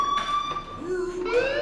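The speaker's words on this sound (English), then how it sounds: "do you hear that fire alarm? That means you should be outside." A high-school fire alarm rings in the video game Life is Strange, a steady electronic tone sounding with some background noise underneath, fairly loud and close.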